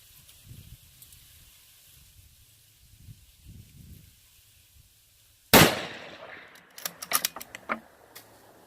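A single sharp, loud rifle shot from the most precise rifle the shooter has fired cracks out mid-clip after quiet low rumbling, followed by a short ringing decay and a few smaller clicks and knocks.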